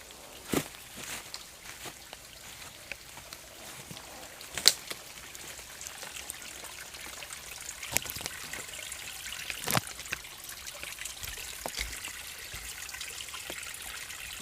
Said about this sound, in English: Probably well flooded in there, going to all the rainwater flowing in.